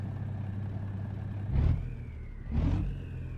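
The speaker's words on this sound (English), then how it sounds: "His sweet engine Cummins." The Cummins engine of a Western Star 6900 truck in American Truck Simulator revs in two short bursts over a steady low idle.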